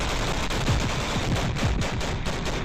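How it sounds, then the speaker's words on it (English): A Bradley infantry fighting vehicle's 25mm chain gun firing in rapid, regular bursts against a Russian BMP-2, heard as dense thumping reports within a wide roar of battle noise. "Look at the rapid fire the Bradley unleashes on the Russian BMP-2."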